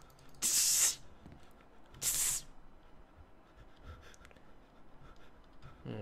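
Two short, sharp hissing bursts from a Windex spray bottle in an indie horror game, about a second and a half apart, over a quiet background.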